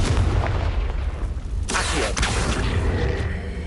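A Confringo blasting-spell explosion in the Hogwarts Legacy video game lands as a deep, booming burst with a sharp crack partway through, then a rumbling tail.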